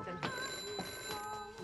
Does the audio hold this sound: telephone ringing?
yes